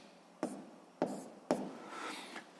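A pen writes physics calculations by hand on paper, three distinct scratchy strokes starting in quick succession, close and quiet with brief pauses between them.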